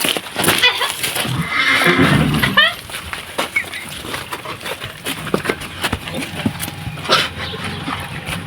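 A mare neighs loudly once near the start after being led outside, a shrill whinny close by, followed by quieter shuffling, soft thuds and faint voices in the background.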